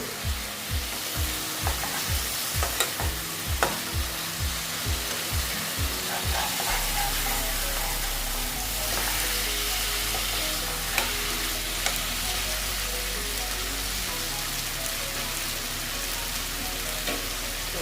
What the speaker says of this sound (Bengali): এখন মাছগুলো এটা সঙ্গে একটু মশলার সঙ্গে ভেজে নিচ্ছি তেল করে নিলাম